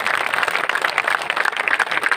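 Crowd applause at an independent candidate's large nomination rally, a continuous patter of many hands clapping throughout, fairly loud and steady with no voices on top.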